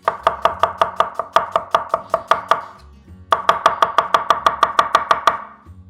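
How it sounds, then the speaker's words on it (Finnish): A knife chops onion finely on a board for a homemade sausage sauce, with crisp, evenly spaced strokes in two runs separated by a short pause. "Sipuli laitetaan tosta ihan pieneksi."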